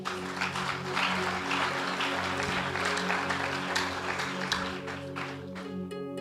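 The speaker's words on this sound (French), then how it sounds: "on acclame très fort" Loud, sustained applause from a church audience at a French-language Christian question-and-answer gathering, a dense wash of clapping that fills the space for several seconds over a low sustained tone.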